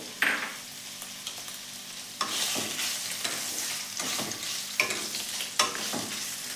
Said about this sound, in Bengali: এর ভেতরে আমি পনিরগুলো দিয়ে হালকা করে ভেজে নেবো